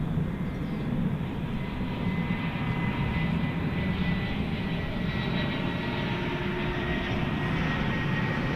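An Airbus jet airliner passes at DFW Airport at night, a steady broad engine roar holding at constant loudness throughout with no talk.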